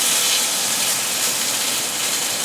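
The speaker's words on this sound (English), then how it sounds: "you can tell it's not sizzling as much" A steady, bright hiss of steak sizzling in a hot cast iron skillet, constant and fairly loud throughout, with no talking.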